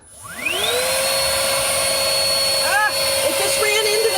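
A vacuum cleaner spins up to a steady high whine and runs continuously, loud and close, inside an Airstream trailer while chasing a spider, with a few brief pitch wobbles as it moves.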